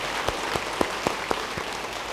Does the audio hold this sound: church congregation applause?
yes